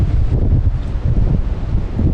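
Strong wind roars steadily against the microphone while deer bowhunting, a dense low rumble that gusts and surges throughout.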